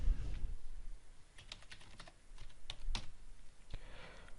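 Someone types a password on a computer keyboard while setting up an Ubuntu server; a quick, uneven run of close key clicks with no talking.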